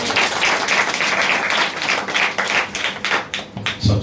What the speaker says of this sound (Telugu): నమ్మితే కొట్టు చప్పట్లు